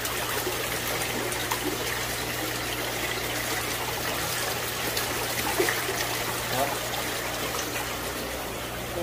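Steady rushing, bubbling water churns continuously in a large fish tank at moderate loudness, a dense turbulent splashing with a low hum underneath.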